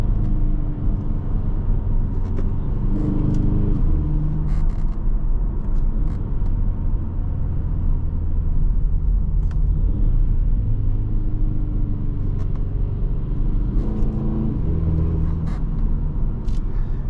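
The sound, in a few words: 2023 Kia Stinger GT-Line accelerating while driving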